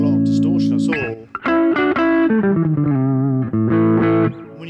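Electric guitar played through a JHS Morning Glory overdrive pedal set for light drive, giving a mildly gritty tone with sustained chords and single notes, loud and close with short gaps.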